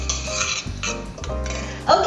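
Salt being stirred into butter in a bowl for garlic bread, with a few scraping, clinking strokes of a utensil against the bowl and a sharper knock near the end.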